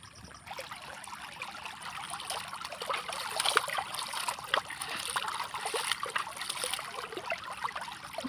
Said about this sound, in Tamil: பாருங்கள், அழகாக தண்ணி ஓடுது.